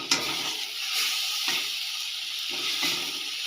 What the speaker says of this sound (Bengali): এরকম মশলা কষানো চলছে, দেখেছো।